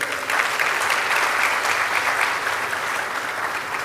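Audience applause fills a lecture hall at a memorial lecture event, steady and dense clapping from a large crowd that holds evenly for several seconds with no talk over it.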